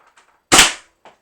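One sharp, loud pop from a Nexus Pro X foam dart blaster firing at a box, close by, with faint soft sounds just before and after.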